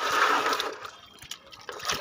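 Water pours and splashes from a bucket onto potted garden plants, a close, brief gush that trails off into light trickling and drips.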